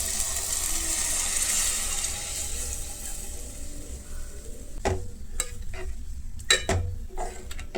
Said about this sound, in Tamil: இப்போ கரைச்சி வச்சுருக்க புளி தண்ணியை இதில் சேர்த்துக்கலாம்.